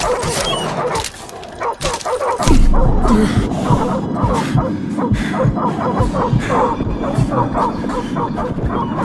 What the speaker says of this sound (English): Leave it alone. It's a wild dog.